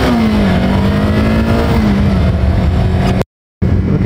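Kawasaki Versys 300 motorcycle engine while riding, a loud, steady drone with a slight dip in pitch, close and alone, broken by a brief silent gap near the end.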